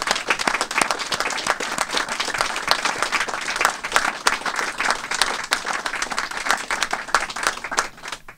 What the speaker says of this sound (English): So let's give him a round of applause for Chuck